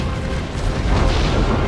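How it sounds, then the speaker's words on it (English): Cannon fire in a Napoleon: Total War battle between Ottoman and British armies, heard as a continuous low rumbling roar of distant artillery that swells slightly midway, with no talk. "the cannon fire from his cannons are coming in"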